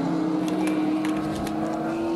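Race cars on a circuit during a battle for position in the opening laps, a steady loud engine drone holding one pitch with brief higher bursts as cars pass close by, continuous throughout.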